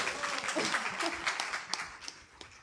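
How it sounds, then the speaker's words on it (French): Brief applause from a church congregation during a family mass, scattered clapping mixed with crowd murmur and a voice speaking over it. "On applaudit,"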